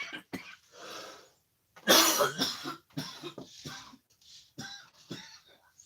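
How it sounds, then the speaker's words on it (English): A man coughs in a string of close, harsh bursts with short gaps between them, mixed with throat clearing and breathy gasps, fairly quiet indoors. "You got me coughing here."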